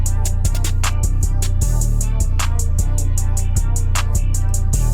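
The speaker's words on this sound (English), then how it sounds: "Real simple open hat." An open hi-hat rings out in a busy programmed drum beat, its hiss repeating steadily over a deep, thumping bass line.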